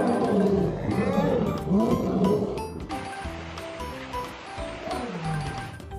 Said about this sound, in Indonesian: ini singa jantan